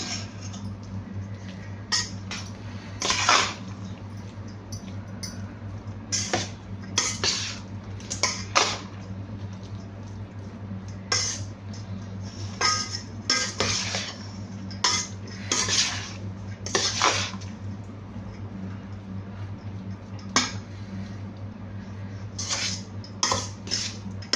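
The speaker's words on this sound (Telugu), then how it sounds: "చూసారు కదండి ఇలా అంతా మిక్స్ చేసేసుకుందాము" Spiced mustard-flavoured rice (pulihora) being mixed with a metal utensil in a pot, giving repeated scraping clinks and clatters at an irregular pace over a steady low background hum, close and fairly loud, with no talking.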